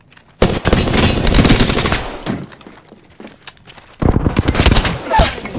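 Automatic weapon fire in Apex Legends rattles in loud rapid bursts, a long volley, a pause with quieter scattered shots, then another dense burst near the end.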